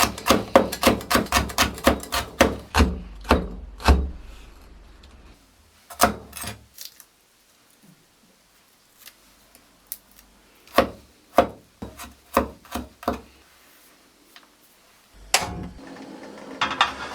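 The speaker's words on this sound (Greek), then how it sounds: "Θα κόψω και 2 μικρούλες καυτερές πιπεριές" Knife chopping two small hot peppers on a cutting board in a home kitchen, fast rapid bursts of close, sharp taps, then pauses and slower clusters of individual chops.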